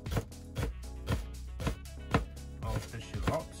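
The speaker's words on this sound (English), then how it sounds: "Now, chopping, take your time, don't cut your fingers off." A knife finely dicing shallots on a chopping board in a boat galley, with about a dozen crisp, evenly spaced chops landing close and clear with no talking.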